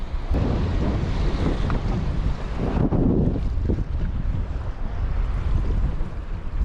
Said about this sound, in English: Wind is straight ripping right here.